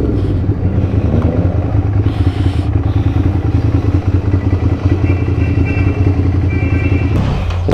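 A big bike motorcycle engine throbs loud and close, its rough idling rumble holding steady with clattering mechanical texture throughout.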